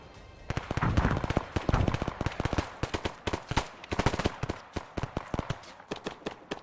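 Mortar rounds landing in Arma 3, a rapid string of sharp, loud explosive cracks and thumps that come in dense irregular bursts and fill the whole stretch with little pause between impacts.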